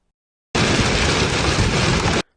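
A loud, dense wash of heavy rain and rumbling storm noise starts abruptly, holds steady for nearly two seconds, then cuts off.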